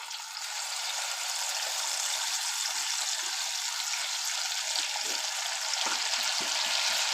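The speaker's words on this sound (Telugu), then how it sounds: "ఇప్పుడు ఇదే ఆయిల్లో మనం అల్లం వెల్లిగడ్డ పేస్ట్ వేయాలి" Ginger garlic paste fries in hot oil for a chicken curry, a steady, even sizzle with occasional soft stirring scrapes, heard close and without talk.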